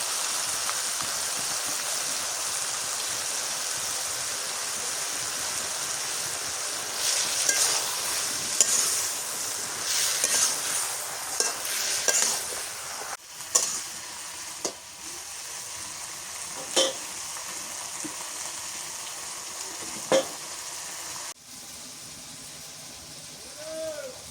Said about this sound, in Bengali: রসুন বাটা দিয়ে দিই।